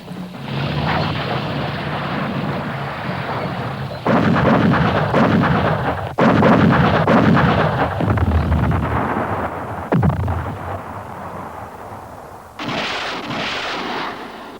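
An artillery barrage in the Vietnam War roars with continuous heavy rumbling booms, the dense thunderous firing rising in abrupt louder bursts and fading briefly before another salvo, with no speech.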